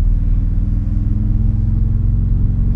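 A square-bodied Volkswagen Gol on 15-inch rims driving along, its engine giving a loud, steady low rumble close by.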